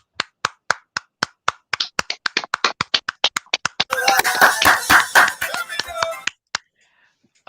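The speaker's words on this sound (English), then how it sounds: "A big round of applause." Applause at an art fest competition as a placing is announced: a few sharp separate claps at first, then a brief fuller burst of crowd clapping that fades out.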